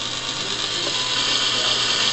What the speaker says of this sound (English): Turn the motor back on.